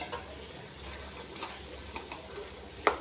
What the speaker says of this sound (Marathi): आणि आता कोथिंबीर टाकते, चांगलं हलवून घेते